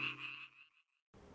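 Tree frogs chorus in a flooded rice paddy just before transplanting, a dense burst of croaking that fades out within a second, followed by a brief silence and then a soft outdoor hiss.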